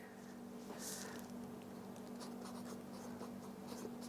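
Marker scratching a label onto a tomato seed tray, soft continuous strokes over a steady low hum, close and faint, with no talking.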